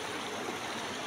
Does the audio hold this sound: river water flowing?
yes